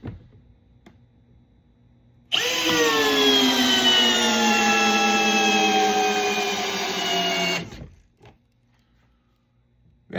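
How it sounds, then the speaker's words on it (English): Cordless drill on speed 1 in drill mode, powered by a Ceenr battery during a peak torque test, spins up abruptly into a loud, steady whine for about five seconds before cutting off, with quieter background hum around it. "Speed 1 in drill mode."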